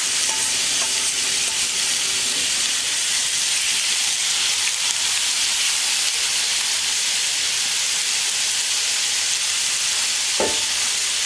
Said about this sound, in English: we're going to toss these scallops into the frying pan here